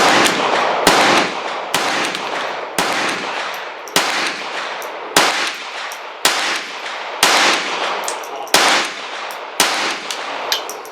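Ten gunshots from a KRISS Vector .22lr short-barreled rifle at a shooting range: sharp cracks roughly a second apart with ringing tails, loud and close, no talking.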